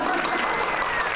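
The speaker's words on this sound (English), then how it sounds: "thunderous applause." Thunderous audience applause for an art education technology award recipient, a dense, steady wash of many hands clapping at close range with no break.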